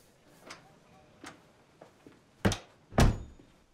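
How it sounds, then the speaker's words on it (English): An indoor door closes in an office setting, heard as two solid thunks near the end, the second the heavier. A few light ticks and shuffles come first, and there is no talking. "Close the door."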